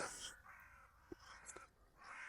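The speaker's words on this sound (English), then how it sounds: "You can hear birds, lots of crows here." Crows caw outdoors during a workout session, several distinct calls scattered across the moment, moderately near, over steady background ambience.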